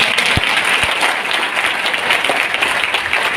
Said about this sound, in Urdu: تالیاں اس بات کے لیے بنتی ہیں زوردار.